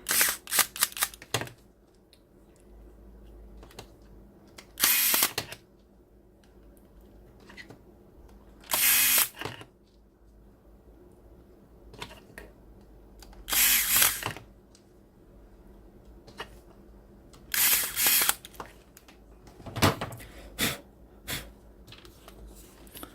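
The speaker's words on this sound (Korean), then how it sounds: "나사 다섯 개를 전동으로 조립하도록 하겠습니다." An electric screwdriver drives five screws into AKG K619 headphones during a cable repair. It gives several short, loud, whirring bursts separated by quiet pauses and faint handling clicks.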